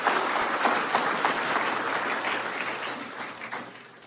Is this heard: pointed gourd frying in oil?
no